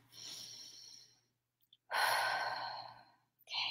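Two long, deep breaths are taken during a calming tapping exercise, each a full airy exhale lasting over a second, with a short pause between them and a third breath starting at the end.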